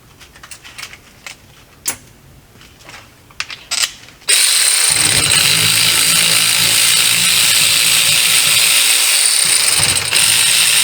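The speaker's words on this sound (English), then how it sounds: "And I gotta get these screws out of here." Removing screws on a 2003 Polaris Sportsman 500 ATV: a few seconds of scattered ratchet-like clicks, then a loud, steady mechanical whirring roar that runs without a break to the end.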